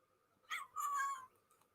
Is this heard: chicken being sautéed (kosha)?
no